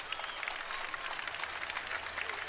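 Crowd at a college wrestling dual between Wyoming and Penn State, a steady wash of applause and cheering with scattered claps, fairly distant and continuous through the short stretch.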